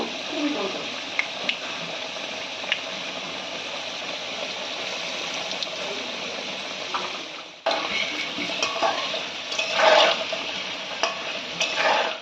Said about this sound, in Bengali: আলুটা ভাজা হতে হতে এদিকে আমরা মাছটাকে ভালো করে মেখে নেব